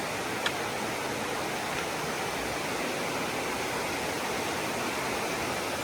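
A river rushing right beside a hiking trail in a gorge on the Appalachian Trail, heard as a constant, dense roar of close water, steady and unbroken for several seconds with no talking.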